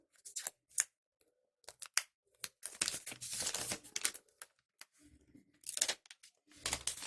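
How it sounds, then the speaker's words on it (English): Plastic wrapping is peeled and torn off a new Xiaomi Redmi 9T phone, giving close, crisp crinkling and ripping bursts separated by brief quiet pauses. "let me remove the plastic wrappings"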